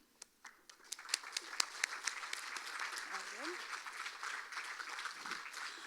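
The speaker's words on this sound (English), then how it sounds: "give them a warm up applause" Pageant audience applause at the Miss Dale Fall Festival: a few scattered claps at first, quickly building into steady, moderately loud clapping that carries on to the end.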